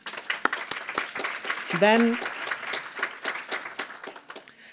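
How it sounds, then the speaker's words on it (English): Applause at a high-level event celebrating apprenticeships, with scattered claps of moderate loudness from the audience and a voice speaking over them partway through. "Please give her a big round of applause."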